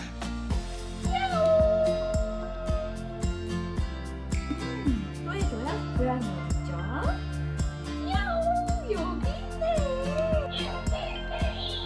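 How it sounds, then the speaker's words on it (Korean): A cat meows repeatedly, its short rising and falling cries mixed with a voice and steady rhythmic music playing underneath. "야옹이한테 뽀뽀해줘. 야옹!"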